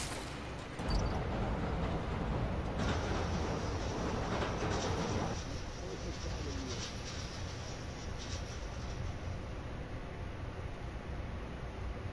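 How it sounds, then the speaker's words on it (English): A train rumbles past in the Spider-Man: Miles Morales video game, a steady broadband roar that swells for a few seconds and then eases into a lingering hiss, with faint bird chirps over it. "Need to wait for the train to come by."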